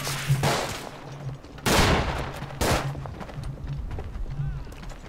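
Loud, steady World War I trench-battle gunfire from the video game Verdun: overlapping rifle and machine-gun shots crack close by, with heavier blasts standing out against a constant din of combat.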